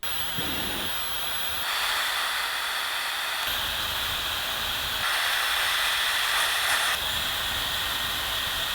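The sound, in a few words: Dyson Supersonic Travel hair dryer running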